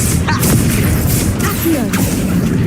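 The Confringo blast spell in the Hogwarts Legacy video game produces a dense, continuous wash of loud booming impacts and crashing effects, layered over a busy game mix.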